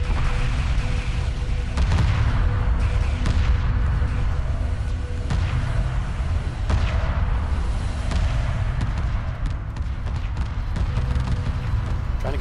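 Space battle in Homeworld Remastered with torpedo frigates and laser corvettes trading fire, a dense continuous roar of booming weapon impacts and explosions layered with sharp repeated bursts, loud and unbroken.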